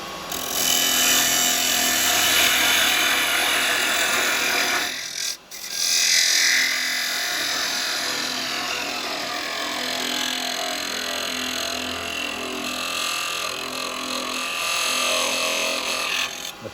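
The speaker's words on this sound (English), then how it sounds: "Now I'm cutting it with a saw because otherwise I'll get a bit of breakout with it." A woodturned wooden piece on the lathe is parted off and then cut free with a hand saw, giving a steady, loud rasping and whirring that runs the whole time, with a brief dip midway and no speech.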